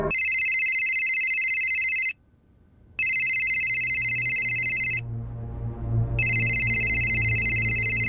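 A telephone rings in loud, regular electronic bursts of about two seconds each, separated by short pauses, with a low hum underneath.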